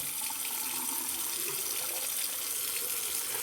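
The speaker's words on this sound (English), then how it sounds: "The water's definitely going down there." Tap water runs steadily into a bathroom vanity sink and swirls down the freshly cleared drain, a continuous close hiss and splash with no pauses and no voices.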